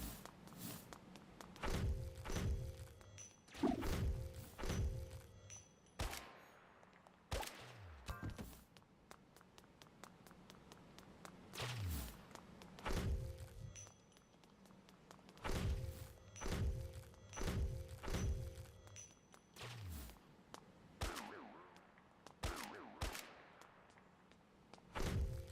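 Repeated dull thunks and thuds from melee strikes landing in a PS5 game, scattered across the stretch with short gaps between hits, set against steady game music and effects with no talking.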